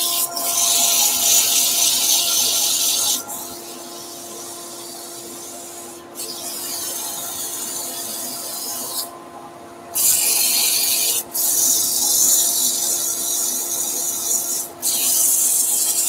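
Abrasive paper rubs against a spinning turned wooden bowl in long, steady passes over the constant hum of a lathe. Brief pauses break up the close, loud scratching.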